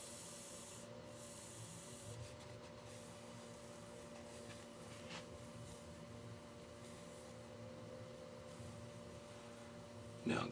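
Wood for a shaving brush is sanded with a very fine grit abrasive, producing a steady, soft, close rubbing hiss with faint machine hum and a brief louder scuff at the end.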